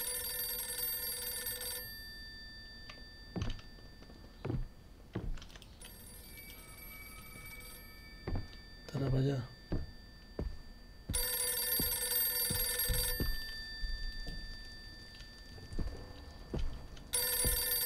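Telephone ringing in the psychological horror video game Visage, an electronic bell sounding in repeated bursts separated by pauses, with footsteps and soft thuds moving between rings.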